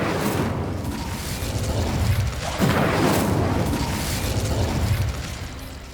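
A fire spell blast cast in Hogwarts Legacy gives a sustained, loud roaring whoosh with a swelling burst in the middle, thick and continuous over low rumble.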